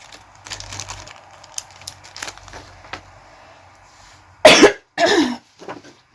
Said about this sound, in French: je tousse encore un petit peu